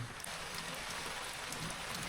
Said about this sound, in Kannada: ಮಳೆ ಎಷ್ಟು ಜೋರು ಆಲತೈತಿ